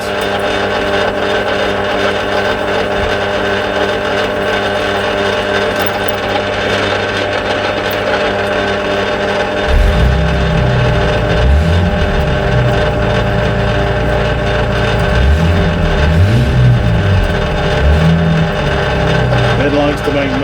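A drill bores a 3mm hole in a 450cc motorcycle primary sheave, a loud continuous whine and grinding drone that deepens and roughens partway through as the bit bites into the metal, under occasional talk.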